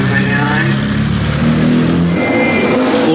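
A 1983 Skoda rally car on the Lombard RAC Rally pulls away with a steady, loud engine drone that rises in pitch, while someone talks over it.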